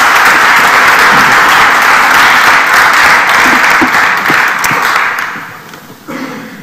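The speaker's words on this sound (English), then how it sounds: "If we could all lend a very warm round of applause for Mr." A Cambridge Union audience gives a warm round of applause before a guest speech, dense steady clapping that fills the hall and then tapers off near the end.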